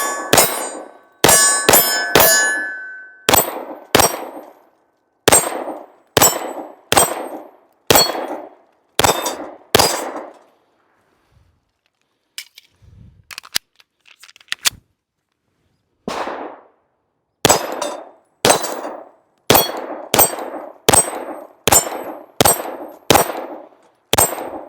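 Repeated pistol shots from a Tisas 1911 ring off a steel dueling tree target, each sharp crack followed by a bright metallic clang, fired in quick strings with a brief pause midway, loud and close outdoors.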